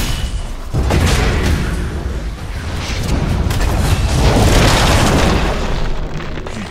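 A tower under attack in Dota 2, with loud, continuous booming explosions and crackling bursts piling into a dense, rumbling barrage that builds toward the end.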